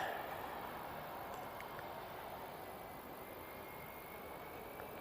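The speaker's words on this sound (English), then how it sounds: "in the background you can see the Etihad 777-300ER" An Etihad Boeing 777-300ER taxis at Manchester Airport, giving a steady distant jet engine roar with a whine. It continues throughout at moderate level.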